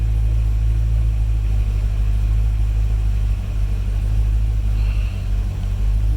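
A Corvette C6 Z06 engine idles steadily with a low, continuous rumble, close and loud, with no voices.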